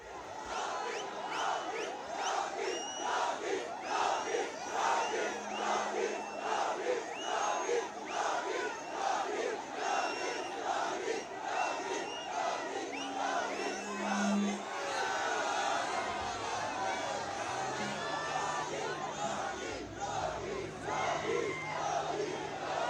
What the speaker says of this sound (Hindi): गोशा महल की सड़कों पर उमड़ी ये भीड़, योगी योगी का नारा लगाते लोग